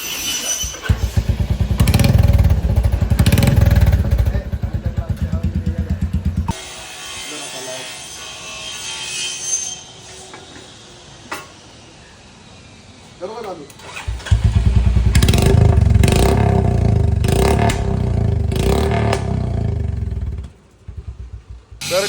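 A Royal Enfield Bullet motorcycle with a modified silencer runs loud and close, its deep thumping exhaust roaring for several seconds, dropping away, then returning just as strongly, with people talking in between.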